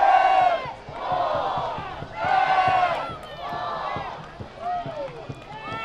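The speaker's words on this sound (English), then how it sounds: "And that gets a crowd into it." Stadium crowd at a Chattanooga Red Wolves soccer match roars in repeated surging waves of cheering after a header goal, loud and massed, with a commentator's voice faintly under it.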